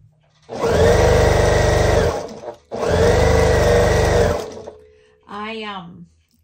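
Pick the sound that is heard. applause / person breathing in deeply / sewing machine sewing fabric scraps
sewing machine sewing fabric scraps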